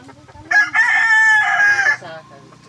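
A rooster crows once, loud and close, a long rising-and-held call lasting over a second, with faint background chatter and clucking around it.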